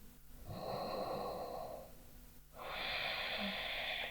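Two slow, deep nasal breaths taken while holding a seated Ashtanga yoga posture, each a close, airy rush lasting over a second with a short quiet pause between them.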